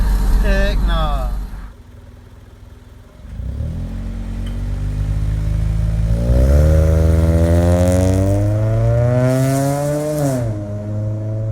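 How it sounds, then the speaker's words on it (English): A 2004 Honda Civic EX coupe with a Magnaflow catback exhaust pulls away hard, its loud, close engine note climbing steadily through a long rev before easing off near the end. "I just showed you a sound clip of my car taking off"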